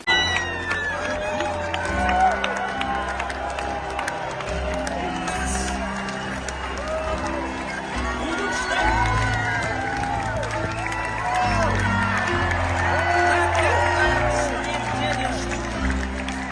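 A concert audience in Israel gives a stormy ovation to a singer and the musicians of a band, dense clapping and cheering over a loud rhythmic musical backing, with voices mixed in throughout.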